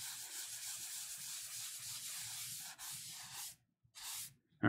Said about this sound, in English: I can try burnishing that a little bit more